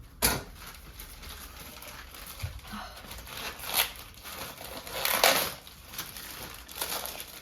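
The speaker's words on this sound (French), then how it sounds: "Donc on va déballer ça ensemble et les essayer." Packaging of new sunglasses being opened up close, with intermittent crinkling, tearing and crunching bursts separated by quieter pauses.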